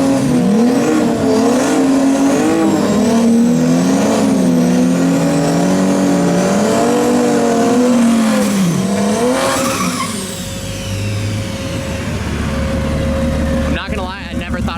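A converted all-wheel-drive new-generation BMW M2 making 1,500 wheel horsepower at a drag racing event, its engine roaring loud and steady with rising and falling revs, fading to a quieter idle near the end.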